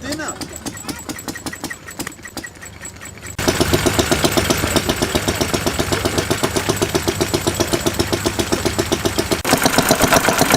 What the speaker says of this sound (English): fire up this Lister sheep shearing machine